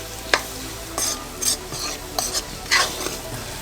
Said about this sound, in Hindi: इसको अच्छे से मिला दूँगी